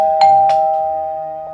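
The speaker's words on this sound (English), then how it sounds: "Suddenly, the doorbell rang." A doorbell rings as a story sound effect, a loud close ding-dong chime with two quick strikes and a lingering tone, then a faint third ring before it fades, with no voices.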